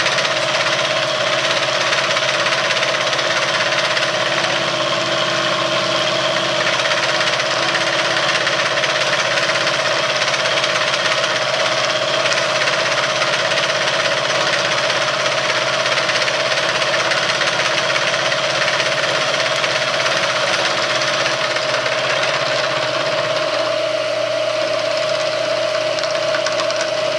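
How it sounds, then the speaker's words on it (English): A milling machine taking a conventional milling cut, a steady loud grinding drone with a constant tonal whine that runs unbroken throughout and eases slightly near the end. "Each time I'm setting it back to do conventional milling."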